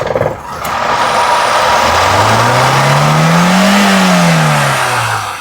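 A car engine runs steadily and close by, its pitch climbing slowly as it revs up, then easing back down, with no talking.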